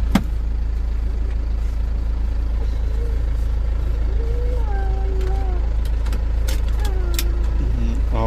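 A car engine idling steadily after a key start during a driving lesson, a constant low hum close inside the cabin, with a tonal squeal partway through, clicks near the end and people talking quietly over it.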